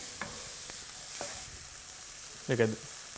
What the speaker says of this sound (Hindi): अब सब्जियों को हमें भूनना है करीबन 5 मिनट के लिए